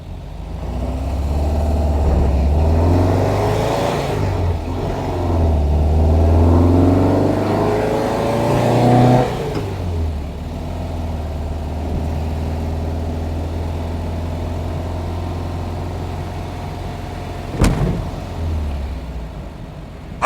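A 1971 VW Square Back's air-cooled engine revs up loudly in repeated surges, then settles back to a lower, steady idle with a brief clunk near the end; no talking.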